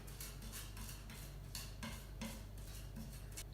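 A chef's knife rocks and scrapes across a cutting board, mincing and crushing garlic with salt into a paste, giving a steady series of close, soft chopping taps and smearing scrapes with no talking.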